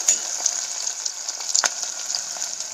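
A steady, close sizzling of onions sautéing in oil in a pan, with soft crackles and occasional stirring clinks, no voices.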